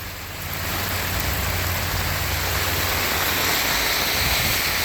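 Steady, dense Florida storm rain pours down without a break, a loud continuous hiss of water striking surfaces close by.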